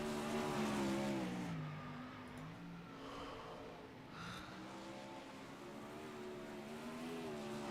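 A 410 wingless sprint car engine roars around a dirt oval on a qualifying lap, its loud revving pitch rising and falling as it passes, then holding steady.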